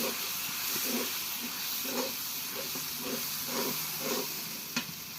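Tomato paste hisses and sizzles in hot oil for a vegetarian banana-flower curry, a steady bright frying hiss with faint periodic stirring scrapes and one sharp click near the end.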